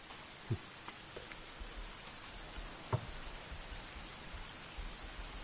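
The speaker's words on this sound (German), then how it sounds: "Es regnet wieder, sehr gut." Soft, steady rain in the video game The Forest hisses in the background, faint and even, with a couple of isolated low thumps standing out.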